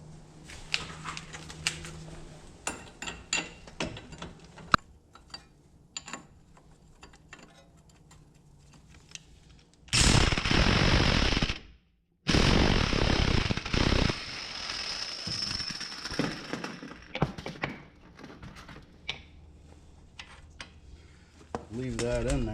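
An impact wrench hammers loose bolts on a 2004 Ford Escape 3.0 engine, two loud close bursts of rattling impact noise separated by a short pause, surrounded by lighter clicks and tool handling.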